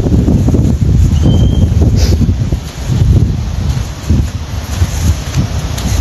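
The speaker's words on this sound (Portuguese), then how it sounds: "Eu não tô nem aí pro vento" Steady wind rushing and buffeting against the microphone during heavy rain in Arambaré, Brazil, a broad low roar that continues for several seconds with no voices.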